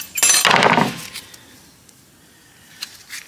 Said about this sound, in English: we're going to want to remove these clips, these pad retainers right here